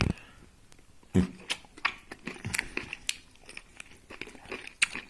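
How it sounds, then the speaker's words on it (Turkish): Crisp crunchy bites and chewing of a pickled pepper, a series of sharp close crunches spaced irregularly with soft mouth sounds between them. "Bak biberden var ya nasıl ısırılır bakalım gösterme"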